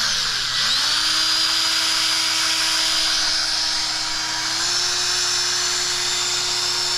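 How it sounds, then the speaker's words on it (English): A wire brush spun on a power drill whines steadily at close range while scrubbing the oil passages of a Ford 351C engine block, a high rising tone that settles into a continuous buzz with no talk. "So we put one on a drill."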